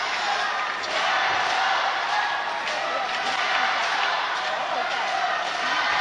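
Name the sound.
table tennis match crowd cheering, 2010 Moscow World Team Championship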